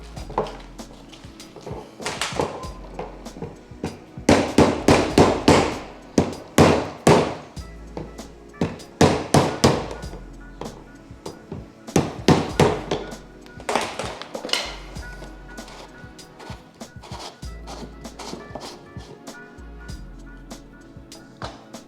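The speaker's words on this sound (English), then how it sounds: "Kind of don't just keep on hitting on one side, kind of hit there, then hit there, then hit there, and it will kind of work itself loose." Repeated metal hammer blows on the fuel pump lock ring of a Mk3 Golf VR6 GTI, struck around its edges to loosen it: loud, sharp strikes landing in uneven bursts and clusters, some rapid and some spaced, with brief pauses between.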